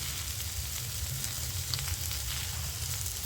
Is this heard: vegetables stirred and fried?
yes